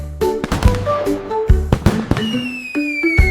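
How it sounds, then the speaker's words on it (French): Rapid sharp bangs and pops of fireworks bursting close by, irregular cracks mixed with whistling tones that glide downward. "Les feux d'artifice de Jack ont illuminé la voie lactée."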